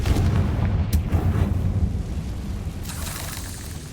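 A Confringo blasting-spell explosion in the game Hogwarts Legacy: a heavy, booming low rumble that rolls on and slowly fades, with a short sharp crack early on and a brighter burst of debris later.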